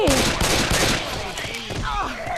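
Rapid gunfire rattles in the zombie shooter game Left 4 Dead 2, loud and dense with bursts of automatic fire, while a player shouts over it.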